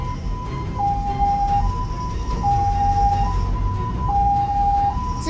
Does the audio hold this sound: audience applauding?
no